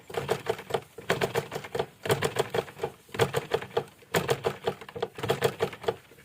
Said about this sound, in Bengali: সেলাই হচ্ছে।